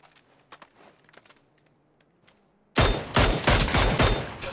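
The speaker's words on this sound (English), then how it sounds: "Those shots, dude." PUBG gunfire on the Haven city map: after quiet footsteps, loud rapid shots burst out close by, a rattling volley that keeps going to the end.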